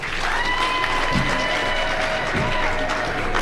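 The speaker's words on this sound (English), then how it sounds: "Can we please clap for her?" Steady applause from an audience at an International Women's Day event, dense and even throughout, with a few voices faintly audible underneath.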